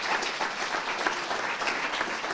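Steady applause from an audience at a cycling event fills the moment, honoring the rider Giulio with dense, even clapping that holds without a break.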